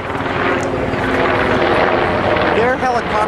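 A Black Hawk helicopter thunders close overhead, flying low, its rotor beating in a rapid steady chop, while people talk underneath the noise.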